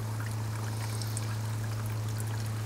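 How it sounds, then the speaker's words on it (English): Surface runoff water from a rainfall simulator over a no-till soil plot, flowing as a steady stream under a constant mechanical hum, no voices. "And there's our pretty good stream of water when we have no drainage allowed in that no-till system"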